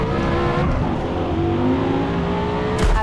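A racing car engine in Forza Motorsport holds a loud sustained roar with shifting pitch as it accelerates, ending in a brief burst of tire noise, continuous and close.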